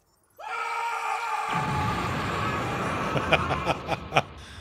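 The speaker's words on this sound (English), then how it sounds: "Oh, that glorious scream." A long, loud scream from the Mass Effect video game rises abruptly and holds for several seconds, dissolving into a strained, ragged cry with a few sharp spikes near the end.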